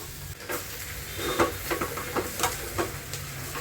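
A tempering frying in a pan, a soft sizzle under a string of quick scraping and stirring clicks from a spoon, close and moderately loud, with no talk.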